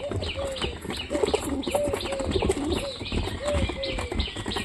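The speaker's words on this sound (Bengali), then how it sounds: "সব কবুতরগুলো বেরো খাচ্ছে" Pigeons coo repeatedly while feeding in a loft, soft throaty coos recurring every half second or so, close and fairly loud, over a busy background of chirps and flutter.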